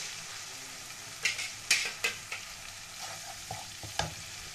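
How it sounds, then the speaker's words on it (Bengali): Spice paste for rui fish frying in a pan while being stirred, with cashew paste and chilli paste among the ingredients: a low sizzle runs under a series of sharp, close scraping strokes, heaviest near the start. "এবার সব উপকরণ দিয়ে খুব ভালো করে কষিয়ে নিতে হবে।"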